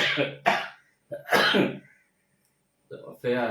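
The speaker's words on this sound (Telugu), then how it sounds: "దానివల్ల కొంచెం దగ్గు వస్తుంది" Two sharp, close coughs from a person with a cold in quick succession, rough and throaty, with softer breathy sounds around them.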